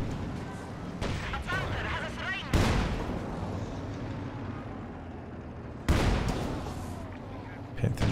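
Tank shells glance off the armor of a German Panther tank during a Company of Heroes 2 battle, with sharp impacts near 2.5 and 6 seconds over a dense bed of rumbling gunfire and battle noise, while a voice talks throughout.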